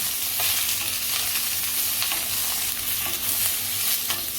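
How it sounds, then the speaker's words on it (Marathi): Capsicum and onion being tossed in a pan on medium heat, a loud steady sizzle with faint scraping of the stirring, continuous and close, with no speech. "सोबतच घालायचं शिमला मिरची आणि कांदा आपल्याला तर मिडियम गॅसवरती असं चांगलं टॉस करून घ्यायचं आहे"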